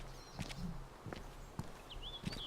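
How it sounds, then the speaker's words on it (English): Footsteps of a player character in the survival video game DayZ, several soft, evenly spaced steps at low volume with faint tonal game sounds around them and no speech. "so it could have just been my footsteps"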